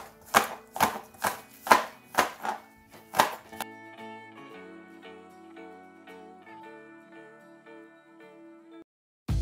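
A knife chops spring onions on a board in about six quick, evenly spaced thuds, close and distinct, followed by quiet tonal background sound.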